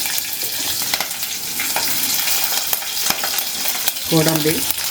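Green chillies frying in a tempering of hot oil for masala rice: a dense, continuous sizzle with soft stirring sounds, and a brief tonal sound near the end.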